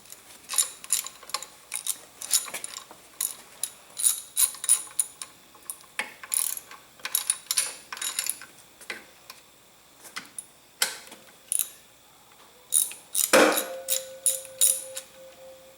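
Ratchet clicking in quick rhythmic bursts while tightening down a spring on a Kawasaki 1600 engine, close and fairly loud, with short pauses between strokes and a sharp metallic ring near the end.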